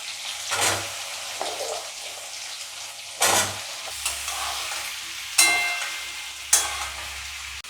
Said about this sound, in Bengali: এইবার আমি আলুগুলোকে দিয়ে দেবো